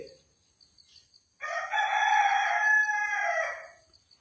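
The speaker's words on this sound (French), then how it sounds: "lorsque mon ton monte, même mon coq rétorque." A rooster crows once, a loud drawn-out call close by that rises abruptly out of near silence and lasts about two seconds.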